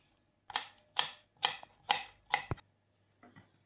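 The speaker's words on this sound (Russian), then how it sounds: "Теперь режем кубиком. Сначала на пластинке," A knife chops an apple into cubes briskly on a cutting board, five even strokes in a quick rhythm, then a pause and one softer final chop; close and clear.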